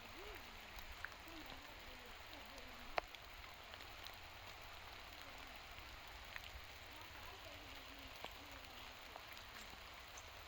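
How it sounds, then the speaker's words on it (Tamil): Rain falling steadily outdoors along a road, a constant hiss with scattered drop patters, and voices talking quietly underneath. "மழை பிடிச்சிக்குச்சு மழை பிடிச்சிக்கு"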